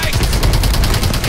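Rapid automatic gunfire in Call of Duty: Advanced Warfare, a loud dense burst of shots rattling continuously over a short stretch.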